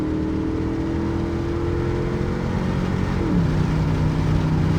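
A Mustang drift car's engine idles and revs close by, a steady rumbling tone that drops in pitch near the end, with no voices.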